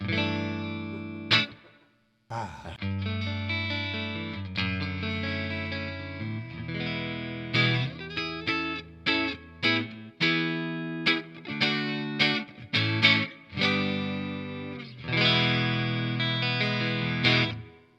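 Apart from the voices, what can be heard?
clean electric guitar with reverb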